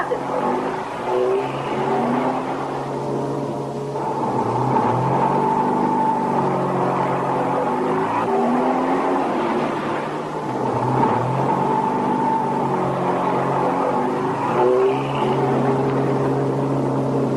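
A diesel truck drives along with a loud, continuous engine drone that repeatedly climbs in pitch as it accelerates, then drops back as it shifts gears, heard close and without talking.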